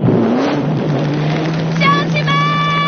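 A continuous low car engine hum for a comic stage skit, with a brief rising rev at the start, then a steady drone under faint overlaid tones near the end.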